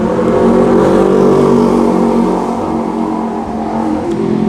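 Dense road traffic during the Pho Khun festival rumbles past at close range, loud car engines droning and revving continuously.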